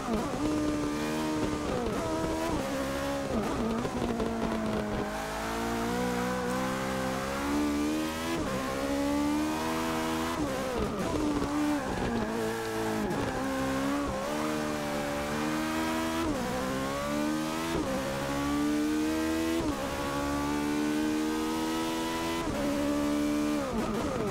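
A Toyota race car in Forza Motorsport 6 revs hard and continuously on a track, its engine note climbing and dropping through repeated gear changes, loud and close throughout.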